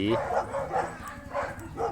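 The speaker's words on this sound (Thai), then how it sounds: "ลาบาดอก็จะเป็นสุนัขแบบนี้นะครับ" Labrador dog barking, a series of close bow-wow barks with yipping, whimpery tones, roughly four or five in two seconds, mixed with someone talking.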